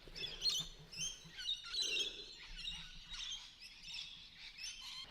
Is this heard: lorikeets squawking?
yes